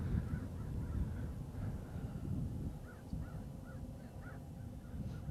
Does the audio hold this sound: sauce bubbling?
no